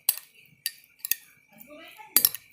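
A paneer marinade with Szechuan chutney is stirred in a bowl: a handful of sharp clinks and scrapes of a spoon against the dish, close and fairly quiet, spaced irregularly with near-silence between.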